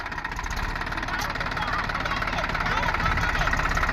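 A tractor engine pulling a cultivator through a field while ploughing, a steady loud rumbling drone with constant mechanical vibration throughout.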